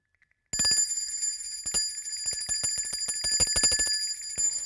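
A small hand bell rings rapidly and continuously, its bright, high tone shimmering as it is shaken for several seconds.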